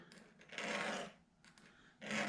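Fine-grit sandpaper rubbed over semi-hemispherical guitar frets, heard as rasping strokes in two main bursts with short quieter passes between, fairly close and with no talking.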